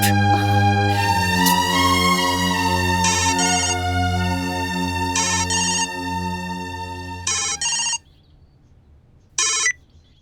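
A mobile phone ringtone plays loud and close, a sustained melodic tune for about eight seconds that breaks off into silence, followed by a couple of short electronic bursts.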